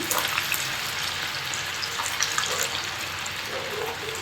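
Aloo bread snacks fry gently in oil over a low flame, giving a steady close hiss of bubbling with small crackles and pops throughout, with no talking.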